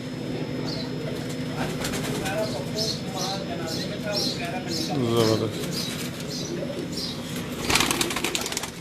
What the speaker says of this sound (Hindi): ये कबूतर हैं उस्ताद खान साहब के घर के हैं